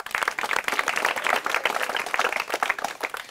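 A college crowd at a music freshers' welcome claps for a new student, with individual hand claps clearly distinct in a lively, uneven burst of applause.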